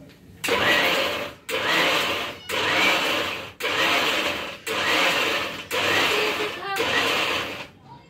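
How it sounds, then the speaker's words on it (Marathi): A kitchen mixer grinder runs in about seven loud, close bursts, whirring hard as it grinds crushed masala paste with a little water and stopping briefly between each pulse. "आणि हा मिक्सरमध्ये"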